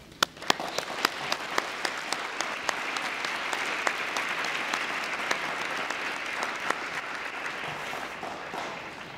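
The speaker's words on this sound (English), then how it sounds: "Please recognize this commitment and effort with a round of applause." Steady applause from an audience at a high school awards ceremony, many hands clapping in a dense, even wash with sharp individual claps poking through, holding at a fairly constant level for about nine seconds before tapering slightly at the end.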